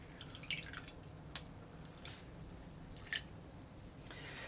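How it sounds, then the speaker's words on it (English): A fresh lime being juiced by hand for a Jungle Bird tiki cocktail, with faint wet squishes and a few soft drips in separate bursts over quiet background. "Then I'm gonna juice some lime."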